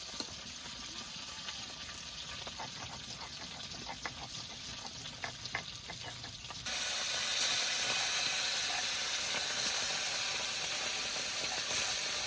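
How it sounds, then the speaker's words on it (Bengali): White mustard seeds being ground into a paste: quiet, rhythmic scraping strokes at first, then shifting abruptly into a steadier, even grinding hiss, with no talk. "এবার সাদা সর্ষে বেটে নেবো"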